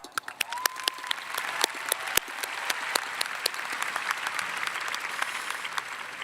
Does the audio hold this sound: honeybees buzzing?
no